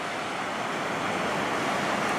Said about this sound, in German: Und so traumhaft sieht dieser breite Strand mit den Dünen aus.